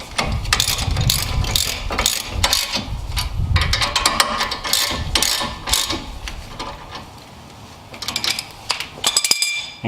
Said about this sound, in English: So I'm going to go ahead and tighten these back up.